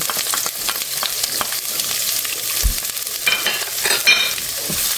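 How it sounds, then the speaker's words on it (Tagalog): Onion and garlic sauté in a hot pan, giving a steady close sizzle with occasional scraping stirs and light clinks throughout. "Ating i-saute ang ating onion and garlic hanggang gumango siya."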